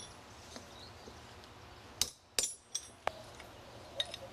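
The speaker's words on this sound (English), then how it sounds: "Then we get a drift chisel to hit the tone ring out." A drift chisel is hammered to knock a wheel-bearing tone ring off a car hub, giving several sharp metallic clinks and taps at irregular intervals, close but fairly quiet.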